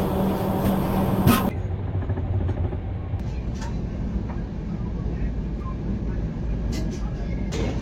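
The Howrah–Bengaluru Duronto Express pulls away, its low rolling rumble and rattle heard from inside the first-class AC coach. A sharp shift early on gives way to a steady undercarriage drone with faint voices over it.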